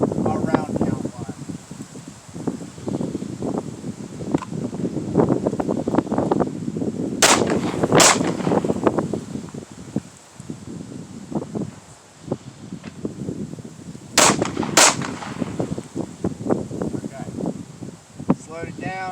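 Pistol shots on an outdoor range during a budget shooting drill, fired in two close pairs several seconds apart, with the shooter talking throughout and light wind noise.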